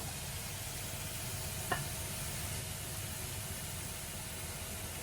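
Steady, faint sizzle of food browning in a frying pan for a home-style Australian chow mein, a continuous soft hiss with one brief scrape of stirring near the middle.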